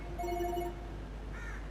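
A phone rings in a home with a brief, faint electronic tone that plays in short bursts and then fades, with no talking.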